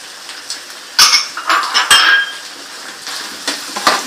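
Crushed coriander, cumin, red chili, salt and turmeric stirred and fried in a pan, with loud metallic clanks and scrapes of a utensil striking the pan over a light sizzle.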